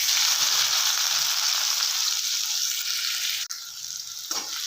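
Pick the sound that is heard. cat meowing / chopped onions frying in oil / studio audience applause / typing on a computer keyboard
chopped onions frying in oil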